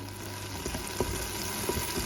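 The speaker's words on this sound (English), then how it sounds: "And let it sizzle off." Steady, hissing sizzle of vinegar hitting a hot pan to deglaze it while stewing beef and pork sausage, with a few faint scrapes and pops over a constant crackling wash.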